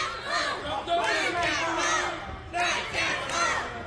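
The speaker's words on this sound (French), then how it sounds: "Et la foule qui est solidement derrière McEnroe" A loud wrestling arena crowd at an intergender match yells and chants in waves, rising and falling in repeated bursts, close and energetic.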